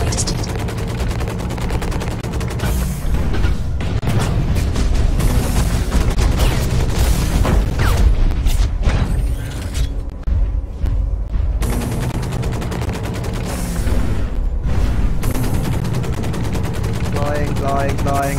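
Rapid automatic gunfire and booming weapon blasts from the mech shooter game Hawken while the player flies, loud and nearly continuous with brief lulls, a voice talking at times underneath.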